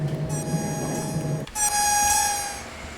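A DB BR 628 diesel railcar in Train Sim World 3 on the Linke Rheinstrecke sounds its horn, a loud sustained high-pitched tone that cuts in halfway through over the running engine.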